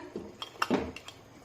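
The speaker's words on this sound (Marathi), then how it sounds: "कढईवर झाकण ठेवूया।" A metal lid is set on a kadhai while besan gatte masala cooks, giving a few short clinks, then one louder metallic clatter as the lid settles, with nobody talking.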